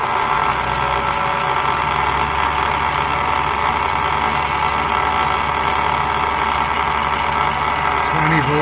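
A homemade 36-inch wind turbine alternator on a test rig spins at 500 RPM, giving a loud, steady mechanical drone and whine that holds unchanged throughout with no talk.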